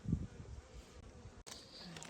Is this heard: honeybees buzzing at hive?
yes